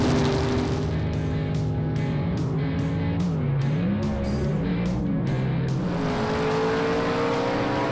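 Loud drag-race launch of Southeast Gassers cars, among them Tony Turner's 1939 Dodge: engines roar and rev with wavering pitch, plus steady high-end hiss and rhythmic pulsing, continuous throughout without talk.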